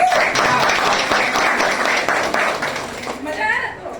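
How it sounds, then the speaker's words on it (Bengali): Audience applause at an office fifth-anniversary celebration, a steady wash of clapping from a crowd that holds for about three seconds before thinning out, with some voices mixed in underneath. "এটার জন্য জোরদার হাততালি"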